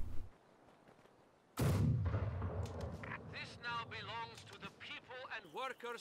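A heavy mortar in a Company of Heroes 2 1v1 match lands with one sudden heavy boom, followed by rumbling battle noise while a commentator talks over it.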